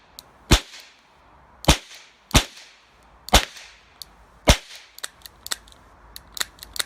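.22 rounds fired from a Charter Arms Pathfinder revolver, sounding like quiet sharp snaps, a handful of spaced single shots followed by a quicker run of fainter cracks, close and with no talk.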